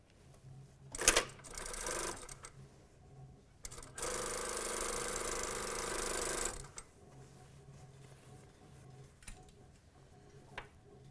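A sewing machine stitches a fabric tube for an elastic vest hem at a short stitch length, a brief burst followed by a longer steady run of rapid mechanical ticking, close and without talk.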